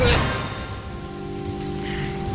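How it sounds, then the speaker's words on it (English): Rain falling on a surface, a steady patter with a low hum underneath after a brief louder knock at the start. "The rain."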